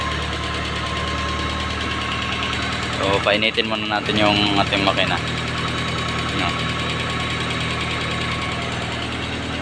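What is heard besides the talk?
Mitsubishi Galant MPI engine idling while warming up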